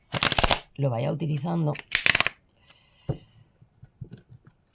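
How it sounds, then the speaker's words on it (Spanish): Oracle cards are shuffled up close in two brisk riffling bursts, with a voice talking in between and faint handling sounds afterward. "voy a barajar un poco más"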